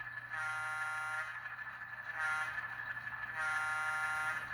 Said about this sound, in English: Here's a horn.